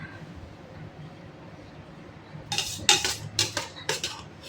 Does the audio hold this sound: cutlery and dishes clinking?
yes